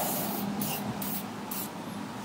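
WD-40 lubricant is sprayed onto a part of a Troy-Bilt Horse rototiller with a Kohler Magnum 8 engine, in four short close hissing bursts over steady background noise.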